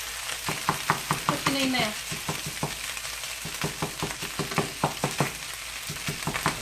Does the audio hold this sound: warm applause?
no